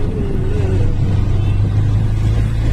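Auto rickshaw engine droning steadily during a ride to Usatne, a loud continuous low rumble with slight revving swells and no talk.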